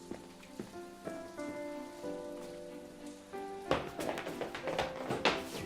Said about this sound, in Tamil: திரும்பவும் மழை பெய்யுது